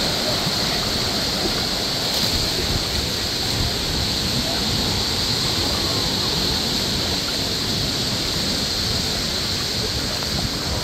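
Sea water surges and waves wash continuously against the shore of an island beach at low tide, a loud, steady rushing roar with wind buffeting the microphone.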